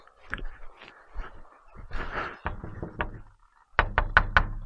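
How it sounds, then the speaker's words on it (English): Knuckles rap on the door of a hut in hilly bushland with smoke still drifting about. Several separate knocks come first, then a quick loud burst of four sharp raps close by, with faint rustling between them and no talk. "I better knock."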